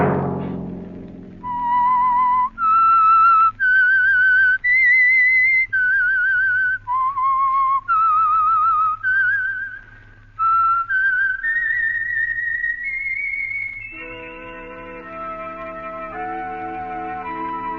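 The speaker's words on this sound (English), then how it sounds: "let that whistle be your signal for the Whistler each Sunday night at this same time." The theme of The Whistler radio show, a lone, clear whistled melody of sliding, sustained notes that gives way to a soft orchestral chord, played close and alone.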